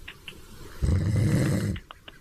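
A man snores loudly in one long, rasping, throaty snore, close by, with quiet breaths before and after.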